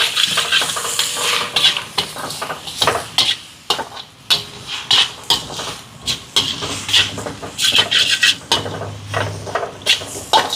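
Seafood puttu kottu for a Jaffna-style dish is stirred and tossed in a pan, with a steady clatter of a utensil scraping and knocking the metal and a faint sizzle beneath, close and busy.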